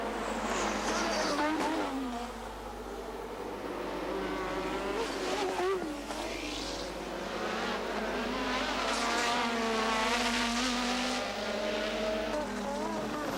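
Formula One race cars of the 1986 Grand Prix season scream past at full throttle, a continuous dense engine wail with shifting pitch sweeps from several cars, loud and sustained, while a commentator talks over it.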